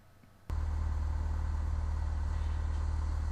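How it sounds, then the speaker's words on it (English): A simulated aircraft engine in Microsoft Flight Simulator X catches abruptly and settles into a steady, loud, low droning run with no voices over it. "The engine's all fired up so that we don't drain the battery."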